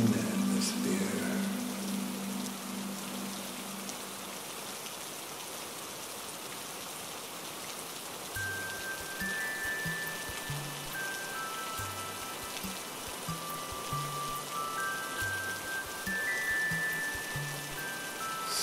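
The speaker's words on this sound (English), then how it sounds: "bring your attention to the sound of the rain" Steady rain pours as a dense, even hiss for the whole stretch, with soft low patter and faint tonal music drifting through the later part; no voice over it.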